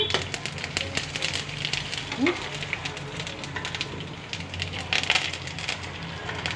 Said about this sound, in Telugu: పప్పులన్నీ వేసుకుందాం. వేగుతున్నాయి కదా